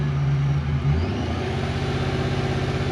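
A Toyota 1UZ V8-powered truck idles slightly high, a steady close engine hum with a low throbbing pulse that settles into an even, unchanging rhythm.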